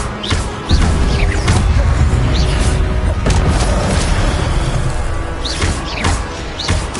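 The Incendio fire spell is cast in Hogwarts Legacy, giving loud, booming whooshes and crashing impacts that repeat across the clip in a dense, continuous barrage.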